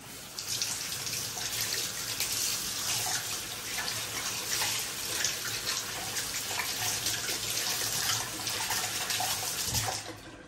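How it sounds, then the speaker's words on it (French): A Kuvings juicer filter is rinsed under a running kitchen tap, giving a continuous, close hiss of splashing water that holds steady for about ten seconds before cutting off. "ce que je fais toujours, c'est de rincer une première fois quand même le filtre pour enlever le plus gros"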